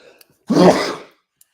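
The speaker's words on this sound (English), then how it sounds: "Excuse me, I'm sneezing." A single close sneeze, a sharp explosive burst that fades over about half a second in an otherwise quiet moment.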